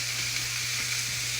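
Food sautés in a hot pan and is flipped, giving a loud, steady, bright sizzle with a faint low hum beneath and a few soft shuffling movements.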